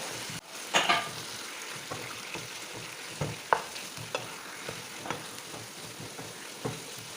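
Chicken for a pepper chicken dish fries over high flame, a soft continuous sizzle punctuated by several sharp stirring clinks and scrapes against the pan, close and fairly quiet.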